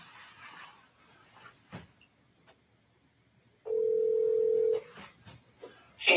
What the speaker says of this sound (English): Look, the phone ringing.